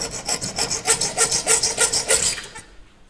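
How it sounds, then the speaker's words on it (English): A hacksaw cuts a bike fork steerer clamped in a bench vise, making quick rhythmic metal rasping strokes, about a dozen close together, that stop abruptly near the end, with no talk. "we're gonna take a hacksaw, see if we can put a little split in this"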